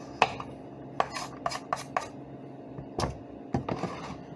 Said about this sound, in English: So as I cut this chocolate, I'm going to collecting it into this dish.